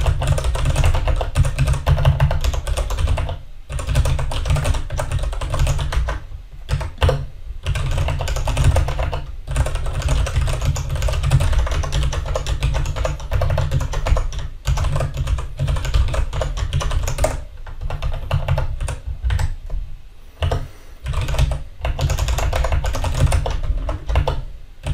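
Code is typed on a computer keyboard in quick, close bursts of key clicks with brief pauses between runs, continuing steadily for the whole stretch.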